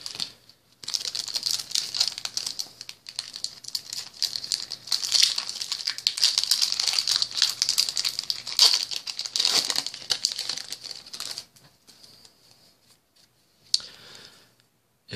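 Foil wrappers of Chaotic trading card booster packs crinkle and tear almost nonstop at close range for about eleven seconds, then fall quiet before one short final rustle.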